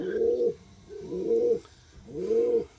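Pigeons kept in a bamboo cage give three slow, close coos in a steady rhythm, with quiet pauses between calls.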